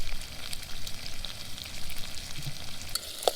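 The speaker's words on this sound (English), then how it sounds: "Diced onions and potatoes and then just throw the fish right on." Trout frying in a pan with diced onions and potatoes at a camp cook-out makes a dense, even sizzle up close, with a brief crackle near the end and no voices.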